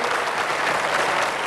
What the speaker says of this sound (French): Quelques applaudissements pour Monsieur Clou, si vous voulez vous donner la peine.